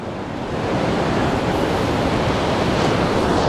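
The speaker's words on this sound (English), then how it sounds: "You get to hear the waves all day and all night long." Ocean surf breaking on the beach at Padre Island National Seashore, a loud continuous roar of waves with wind noise, swelling up early and holding steady with no voices.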